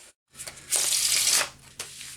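Deck of playing cards riffle-shuffled close up: a short gap, then a dense, crisp riffle lasting under a second, followed by a quick flick of the cards settling.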